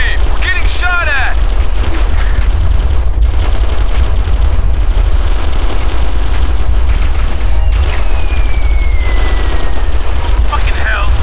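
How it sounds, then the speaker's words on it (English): Combat in the Operation Flashpoint Red River military video game: dense, continuous gunfire and booming bursts fill the scene, loud and unbroken throughout, with a brief voice in the mix. "We're getting shot at."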